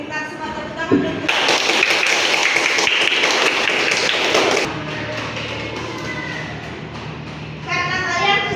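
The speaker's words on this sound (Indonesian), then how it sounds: "minta semua tepuk tangan dulu" Students clap together in a classroom, a dense burst of applause rising suddenly and holding for a few seconds before fading into quieter room noise and children's voices.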